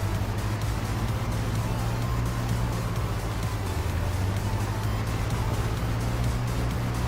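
A small 50-horsepower Kubota 4x4 tractor in Farming Simulator 22 runs with a constant, loud engine drone and steady low hum throughout.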